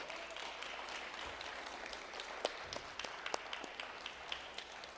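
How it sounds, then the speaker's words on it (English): Soft applause from a church audience honours a panel, a fairly faint, even patter of many hands with a few sharper individual claps standing out near the end. "Let's give our panel a round of applause."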